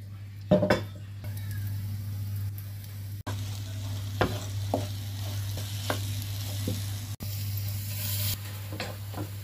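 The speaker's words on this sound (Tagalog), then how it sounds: "Gawa tayo ng scrambled eggs. Ngayon, wala ng water. Lagyan natin ng mantika." Scrambled eggs frying in oil in a pan, a steady sizzle running throughout with scattered utensil scrapes and clinks from stirring, close and fairly quiet, with no talking.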